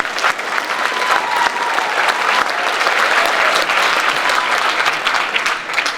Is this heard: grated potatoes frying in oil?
no